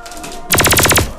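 Toy ray gun sound effect: a loud electronic burst of rapid repeating descending zaps lasting about half a second, following a quieter tonal hum.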